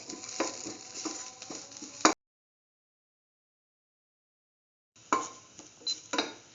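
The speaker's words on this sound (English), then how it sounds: "thoroughly saute the garlic along with the onion pieces" Garlic and onion pieces are sautéed in a pan, with a soft sizzle and several close stirring scrapes and clinks. The sound cuts out into silence partway through, then comes back with more stirring and a few sharp knocks.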